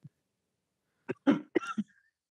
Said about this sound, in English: Hopefully this cough comes down in control here